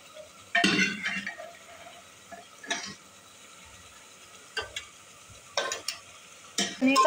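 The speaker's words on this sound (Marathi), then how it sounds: "मटण टाकते मी याच्यामध्ये" Mutton tipped into masala in a pan and stirred for a mutton rassa, with a few sharp scraping and clattering bursts of utensil on metal separated by quieter stretches.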